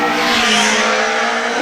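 A Van Diemen RF02FX single-seater racing car blasts past close by on the Shelsley Walsh hillclimb course, its engine roaring loud and steady with a slight pitch sweep as it passes.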